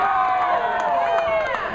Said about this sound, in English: Eddie's got a loud vocal crowd and we love it.